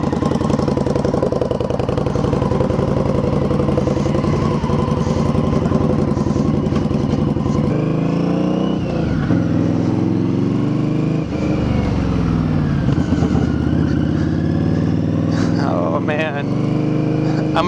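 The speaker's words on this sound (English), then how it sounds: "Now it definitely sounds like a V-twin." A Victory Octane V-twin motorcycle with an RPW full exhaust rumbles loud and close throughout, with a deep pulsing idle, then revs rising and falling as it pulls away.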